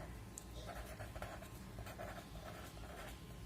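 Marker or chalk writing on a board during an English grammar lesson on present perfect continuous tense, faint scratchy strokes in short bursts, under a teacher's quiet speech.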